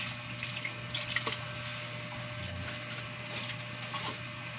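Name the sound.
pouring a little broth into sardine dish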